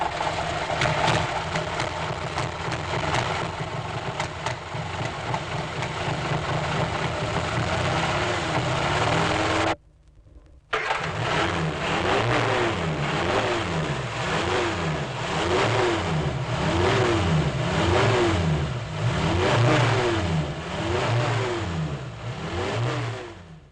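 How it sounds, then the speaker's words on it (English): A four-cylinder car engine with its spark plugs wired to the distributor in the wrong order runs rough and uneven, then revs repeatedly in bursts, the pitch rising and falling; it cuts out briefly partway through. "the noise of a 4-cylinder car with its plugs connected to the distributor in the wrong order"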